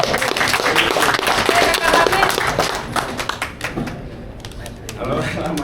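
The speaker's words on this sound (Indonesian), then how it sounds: "Tepuk tangan buat Bayem." Audience applause at an Indonesian film press event, dense clapping for the first few seconds that thins into scattered claps, with talk mixed in.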